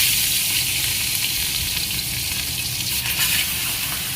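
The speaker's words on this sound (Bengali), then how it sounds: "গরম হয়ে গেছে, এখন হলো মাছটা দিয়ে দেবো।" Fish dropped into hot oil crackles and sizzles with a steady, bright hiss heard up close for a few seconds, without any speech.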